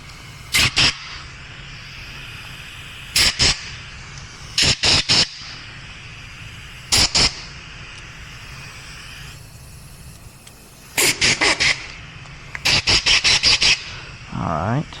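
Compressed air blasts through carburetor jets and fuel circuits on a motocross bike during race prep, coming as short sharp hissing bursts, singles and pairs, then a rapid cluster of several quick puffs over a low steady background.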